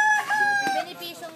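A rooster crows loudly and close by, a single drawn-out call rising and falling over about a second, with faint clucking of other chickens behind it.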